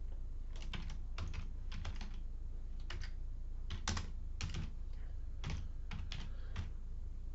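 Someone types code on a computer keyboard in quick clustered bursts of soft clicks with short pauses between, close and quiet, with no talking.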